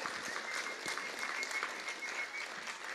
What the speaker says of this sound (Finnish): Annetaanko aplodit Jeesukselle?